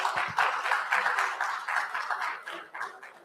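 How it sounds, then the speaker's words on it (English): An audience at a live design debate event in Chandigarh gives a steady, moderately distant round of applause, continuous clapping throughout with no clear voices above it. "let's give him a big round of applause"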